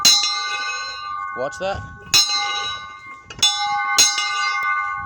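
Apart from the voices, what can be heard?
church bell ringing with a double clang of the clapper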